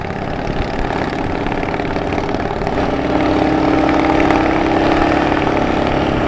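A Kawasaki KLR motorcycle engine labours at high altitude on a Colorado mountain road, a steady loud droning hum that rises slightly in pitch and strength partway through, close up with no talk.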